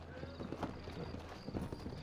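Horse hooves clip-clop steadily with a short neigh, set in the Old West game Red Dead Redemption in New Orleans; the hoof beats sit in a busy background bed, close and moderately loud, with a voice faintly present.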